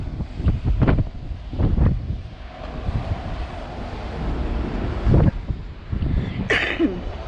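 Cold wind buffeting a microphone aboard a boat back in Charleston, loud gusty rumbling with bursts of stronger blasts and faint water wash underneath, no talking.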